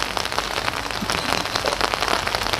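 Steady rain falls continuously on a surface, a dense, even patter of drops close by with no voices, holding at a constant level throughout.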